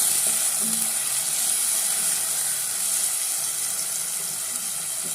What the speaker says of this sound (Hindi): एक मिनट भूनने के बाद जो टमाटर है उसको इसमें डालेंगे